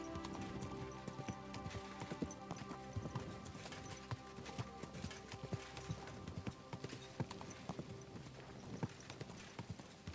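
Horse hooves clip-clop steadily in the video game Kingdom Come: Deliverance 2, a regular rhythmic plodding beneath faint ambient forest and rain-like texture, with an occasional soft whinny.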